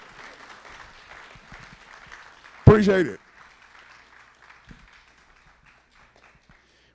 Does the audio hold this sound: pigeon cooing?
no